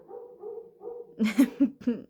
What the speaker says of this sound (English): I'm sorry, my dog is barking.